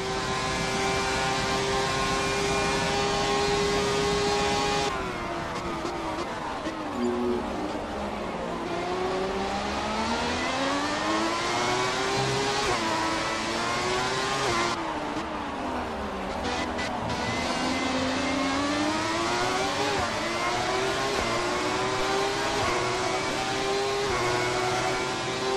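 The V12 engine of a 1995 Ferrari 412 T2 howls in the F1 2017 racing game at Bahrain, loud and constant, with the pitch dipping and climbing through gear changes and braking over a long run.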